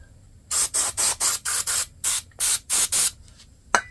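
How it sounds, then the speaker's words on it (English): Brake cleaner sprayed onto a Husqvarna 545 chainsaw bar in about ten short hissing bursts, close and loud with brief gaps between them, followed by a small click. "the best way to clean this is with I use a little bit of brake clean"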